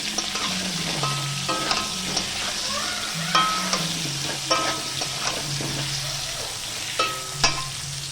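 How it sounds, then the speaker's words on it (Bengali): Potatoes fry in a wok with a steady oil sizzle, while a spatula scrapes and stirs in repeated strokes and metal clinks stand out at intervals, all close and with no voices. "এবার বসিয়ে দিয়েছি আলু ভাজা।"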